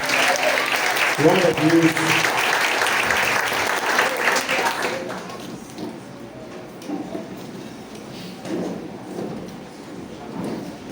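A church congregation claps loudly at a Sunday worship service, dense applause that fades after about five seconds into quieter room sound while someone speaks briefly.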